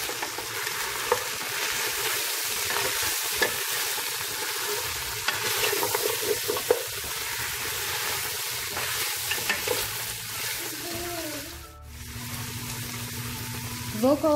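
Ribs with chili pepper sizzle steadily in a pan while a utensil scrapes and stirs through them, with a brief pause and splash near the end.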